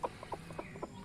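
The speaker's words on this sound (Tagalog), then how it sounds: "naririnig ninyo yung iyak ng sisiw" Hens cluck and chicks peep around a brooding hen hatching eggs in a chicken cage: a close, uneven series of short, nasal calls about every quarter second, alone without talk.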